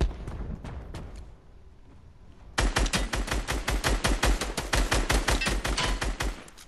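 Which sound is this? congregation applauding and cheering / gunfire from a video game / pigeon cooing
gunfire from a video game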